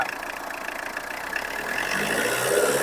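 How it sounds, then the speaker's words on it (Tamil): A used car engine runs at idle and then rises in pitch and loudness as it is revved, a steady mechanical drone building toward the end, with no voices. "ரேஸ் பண்ணுப்பா"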